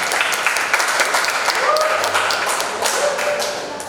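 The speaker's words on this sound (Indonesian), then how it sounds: "Kita satu tepuk tangan." Applause from workshop attendees welcoming a museum presenter at a coffee painting and batik session, a brief burst of clapping with some taps and thuds that gradually thins out.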